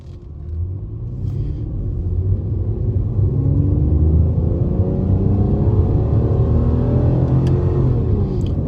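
A 2009 Aston Martin DB9 accelerates hard through its gears with paddle shifts, the engine note climbing steadily as a loud, close rumble with a brief dip at each upshift, heard alone without talk.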